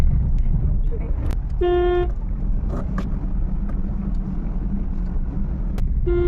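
Car driving through Kolkata city streets in the morning, with a steady low road and engine rumble throughout, a brief horn toot, and light wind noise at the microphone.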